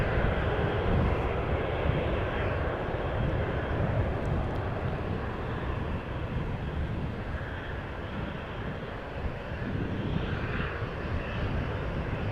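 Airplane taking off at Amsterdam Schiphol Airport, a loud, steady jet engine roar that fills the whole stretch without a break, close and sustained with no talk over it.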